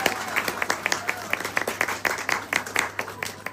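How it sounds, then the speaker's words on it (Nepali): An audience at a Christmas celebration breaks into applause, a mix of sharp, fairly close claps in an uneven rhythm, steady but not very dense, with no talking over it. "हामी जमुना दिदीको निम्ति फेरि पनि ताली बजाएर धन्यवाद दिनेछौँ"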